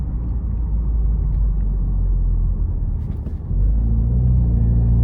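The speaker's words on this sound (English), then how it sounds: "just feeling this turbo pull and then hearing that blow off valve" A 2024 Ford Mustang EcoBoost convertible with a 2.3-litre turbo four-cylinder pulls under load with a loud, steady low cabin rumble, dipping briefly before the engine note picks back up.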